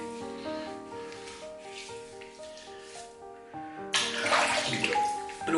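Tap water runs into a basin during a wet shave, a steady close splashing rush that grows louder and brighter partway through.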